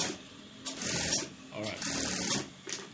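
A sewing machine stitches down a folded half-inch hem on brocade fabric, running in a few short bursts with brief pauses over about three seconds, fairly close and steady.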